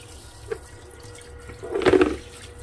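Dirty sock washed in water, a brief close splash and swish of sloshing water after a quiet stretch with a small tap.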